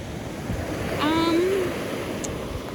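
Rough surf rolls onto a Sanibel beach as a steady, loud wash of wind-blown waves, with a brief tonal call rising over the noise midway.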